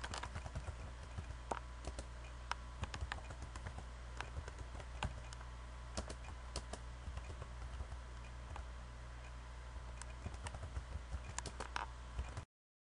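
Code being typed on a computer keyboard: a quiet, steady stream of soft key clicks and taps over a low hum, faint and unbroken for several seconds.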